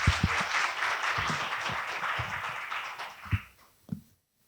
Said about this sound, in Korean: 총장님을 큰 박수로 맞이해 주시기 바랍니다.